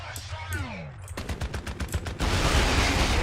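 A video-game explosion in the shooter F.E.A.R. arrives as a sudden loud blast, followed by a rapid string of sharp gunfire-like bursts and then a dense, noisy roar of debris and rumble, with talk faintly underneath.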